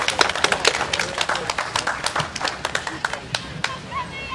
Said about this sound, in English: Let's give Doug a big round of applause.